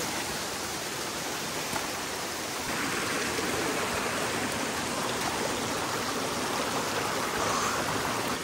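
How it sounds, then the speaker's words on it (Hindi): Steady broadband rush of falling water, a jungle waterfall in Nagaland, India, close by, continuous and fairly loud with no voices. "ये झरना चला गया भाई इधर,"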